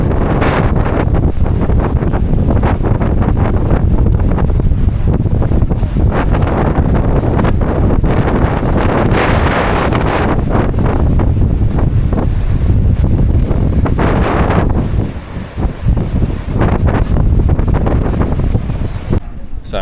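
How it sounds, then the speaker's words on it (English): Strong wind buffets the microphone on the seafront at St Ives, a loud continuous roar with gusty surges and the wash of the sea beneath, easing briefly near the end. "So windy."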